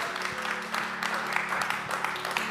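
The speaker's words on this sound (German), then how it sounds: "Ihr dürft ihnen noch einen Applaus geben hier im Saal" An audience in a hall at a church service applauds, a steady patter of many hands clapping at moderate distance with a faint hum beneath.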